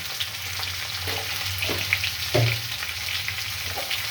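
Vegetables for shukto frying in a pan, a continuous close sizzle with a few spatula scrapes and stirring knocks, no talking.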